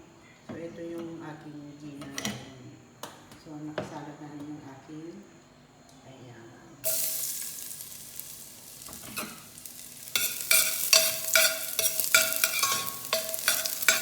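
Sardines being stirred into spaghetti in a pan, with garlic and tomato, give scraping and clinking utensil sounds under a talking voice, then a louder steady sizzle with rhythmic stirring scrapes.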